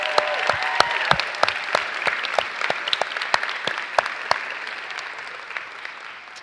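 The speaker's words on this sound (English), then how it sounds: "Give me a round of applause." An audience at a 2018 spring commencement ceremony claps, with sharp individual hand claps standing out from a thinning, scattered applause that gradually softens.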